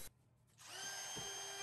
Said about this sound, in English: I go back with a pilot drill and punch the centers through to the other side